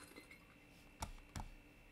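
Two short, bright glass clinks from an impact sound effect previewed in the Unity editor for a VR escape room, spaced about a third of a second apart over a faint steady hum.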